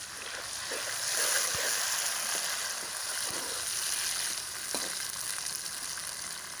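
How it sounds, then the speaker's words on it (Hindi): Chopped tomatoes frying in oil with browned garlic, ginger and onion for a potato spinach curry, a steady close hiss and sizzle with a few soft stirring scrapes and clinks throughout. "अब मैं इसमें ये टमाटर मैंने धो के काट के रखे हैं ये ऐड कर रही है।"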